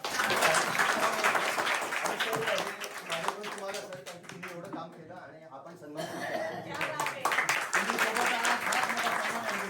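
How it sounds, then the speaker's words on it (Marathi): Students and villagers clap for their teacher at a village school below the Matheran hills, dense applause with chuckles running through most of the stretch, dipping briefly in the middle before swelling again, while someone speaks over it. "टाळ्या वाजवा"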